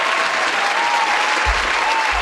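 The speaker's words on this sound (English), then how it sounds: "Round of applause, please, sir." Loud, dense applause fills a podcast studio, a continuous roar of clapping with low thumps near the end, as a show opens.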